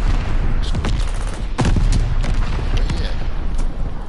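Grenade explosion amid heavy gunfire in Call of Duty Vanguard Zombies, a loud boom surrounded by dense, continuous shooting and bursts, with players talking underneath the combat.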